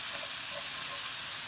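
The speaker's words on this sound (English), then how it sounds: "I leave it on like a patty for a little bit, let it sear before I start breaking it up" Ground meat searing in a hot pan with paprika and garlic, a steady close sizzle and hiss with no talk.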